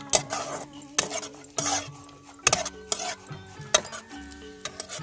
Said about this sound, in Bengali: এবার আমি ঘিতে দিয়ে দেবো কাজু ও কিশমিশ,